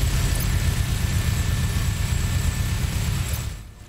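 The chain gun in Doom Eternal, a minigun-style weapon, fires in one sustained, loud, dense roar that holds steady for several seconds before cutting off abruptly, with no voices.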